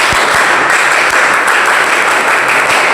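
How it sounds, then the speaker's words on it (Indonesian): A classroom of students claps together at the close of a lesson, a loud, dense, continuous burst of many hands heard up close with no talking over it. "Sekali lagi Bapak ingin tepuk WOW yang tadi dari kalian ya."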